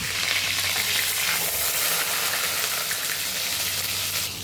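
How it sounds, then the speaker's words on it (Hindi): Paneer sizzles and fries in a pan with a loud, steady crackle close by, no talking over it. "हमारा पनीर फ्राई हो चुका है।"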